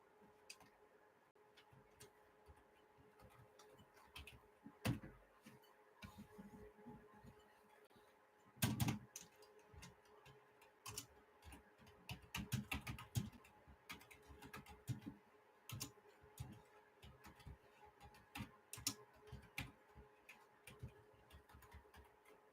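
Office keyboard typing with faint, irregular clicks and taps in short bursts. The strokes are separated by quiet pauses, and a denser cluster of keystrokes comes partway through. There is no talking.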